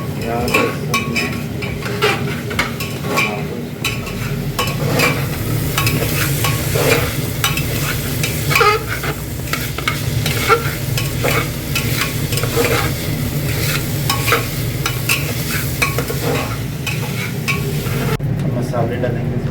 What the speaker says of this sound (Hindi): तेल प्याज लहसुन में